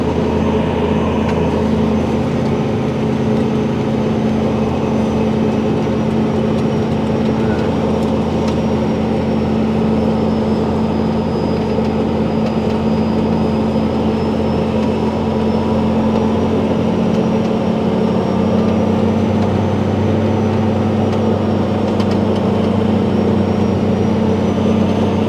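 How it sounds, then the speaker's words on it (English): A tractor engine drones steadily as it drives over rocky ground, a loud continuous low hum with a faint whine above it, no voices. "We are tractor driving."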